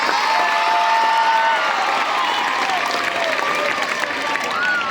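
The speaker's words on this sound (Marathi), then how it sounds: "या आपल्या मुख्याध्यापकासाठी जरा जोरदार टाळ्या वाजवा बरं का." A crowd of students at a school gathering claps for the headmaster, a loud, sustained wash of applause with cheering and shouting voices mixed in, continuing throughout.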